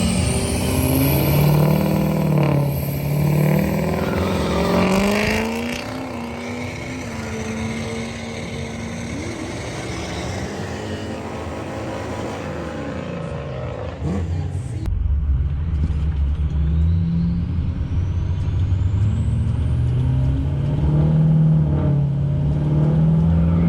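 A nitrous drag race car at Bristol launches with a loud rising engine roar that climbs in pitch, drops back, then builds again, heard close and continuous.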